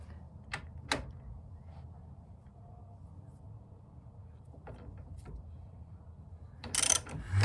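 A ratchet tightens a car's strut bearing in a quiet garage, giving a few sharp clicks early on, faint ticking later, then a louder burst of mechanical rattling near the end.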